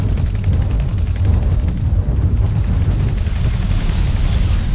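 Heavy, continuous space battle combat in X4: Foundations with booming torpedo impacts and rapid gunfire crackling on a ship over a dense low rumble, loud and close throughout.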